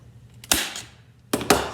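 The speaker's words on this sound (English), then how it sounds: "staple that in place." A staple gun fires staples through stretched fabric into a wooden frame: one sharp snap, then a quick pair of close, loud shots after a pause.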